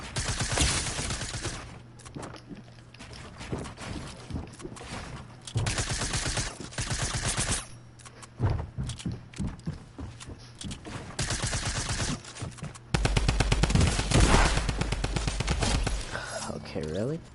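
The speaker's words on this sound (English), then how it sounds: "that was an SMG and a Tommy gun" Video game gunfire from an SMG and a Tommy gun crackles in rapid automatic bursts and volleys, dense and continuous across the stretch, with talking heard alongside.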